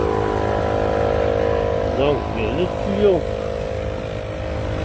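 A car engine idles steadily during a home brake fluid change, a constant low rumble running throughout with someone speaking briefly over it.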